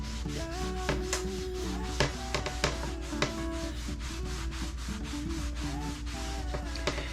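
Wood stain rubbed by hand onto a wooden board with a cloth, a steady close scratchy rubbing in quick repeated back-and-forth strokes, continuous and alone without talk.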